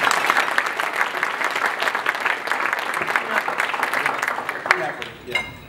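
A crowd at a Snoqualmie State of the City address applauds steadily, a dense wash of many hands clapping that fades near the end, with a voice briefly heard over it.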